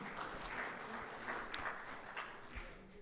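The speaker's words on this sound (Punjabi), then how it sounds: "ਇੱਕ ਵੱਡੀ ਸਾਰੀ ਤਾੜੀ ਹੈ ਜਿਹੜੀ ਟੀਮ ਵਾਸਤੇ ਜ਼ਰੂਰ ਵੱਜਣੀ ਚਾਹੀਦੀ ਹੈ" An audience at an event in Dubai claps for a team, a soft, distant, steady patter of applause that lasts the whole stretch.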